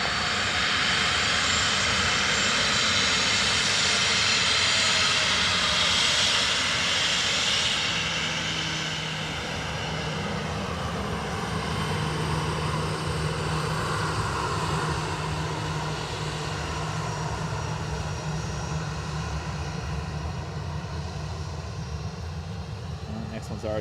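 Ryanair airliner landing at Dublin Airport, heard from a distance as a broad steady engine roar that is loud at first and eases slightly, with a faint tonal whine, while people talk intermittently underneath.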